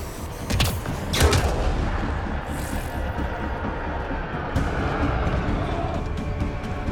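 Mass Effect: Andromeda combat with a grenade blast and gunfire, a couple of sharp cracks and a heavy boom early on, followed by a rumbling, noisy battle wash with scattered shots.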